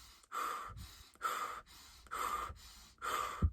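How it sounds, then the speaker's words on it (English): Paced breathwork breathing: four strong, rushing breaths alternate in through the nose and out through the mouth, each about half a second long with short pauses between, close and clear. "in through your nose, out through your mouth."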